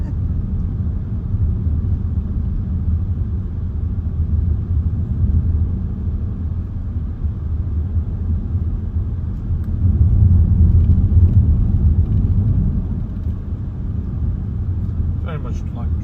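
A car drives along narrow countryside roads, heard from inside as a steady low engine and road rumble that swells briefly midway, continuous and fairly loud.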